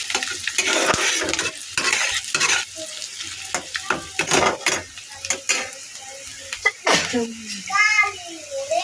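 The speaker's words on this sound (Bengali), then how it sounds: "এবার হালকা একটু ভেজে নেব, লাল লাল করে ভেজে নেব, বাদামি করে।" Chopped onions frying in a pan for a banana-peel stir-fry, a steady sizzle with scraping stir strokes and clatter, heard with someone talking over it.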